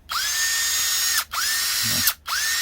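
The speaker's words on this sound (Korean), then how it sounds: "지금 한마는 이렇게 요래요래 앞뒤로 뚫어주는 게 한마입니다" An ES LH120 20V cordless hammer drill running in hammer mode, close up, in three roughly one-second bursts of high whining, buzzing motor with brief stops between.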